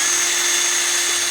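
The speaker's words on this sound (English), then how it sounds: "So I'm drilling a hole." A power drill bores a hole into a car dashboard during an aftermarket windshield washer install, giving a steady, loud, high-pitched motor whine that runs unbroken throughout.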